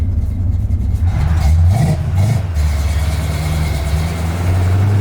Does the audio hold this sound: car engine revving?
yes